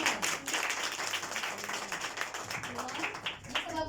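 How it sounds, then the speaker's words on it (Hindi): A children's audience clapping and applauding together, a dense continuous patter of hands lasting throughout, with voices mixed in underneath. "बजा दे तालियां"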